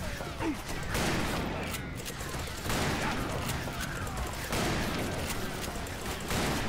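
A Gatling gun in the western shooter Call of Juarez: Bound in Blood fires in dense rapid bursts, loud and sustained with brief pauses, while a player talks faintly underneath.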